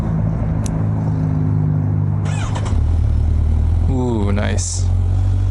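Idling 2018 Kawasaki Ninja 1000 motorcycle, a steady low engine rumble with a brief rising rev near the end, loud and close under a short spoken comment.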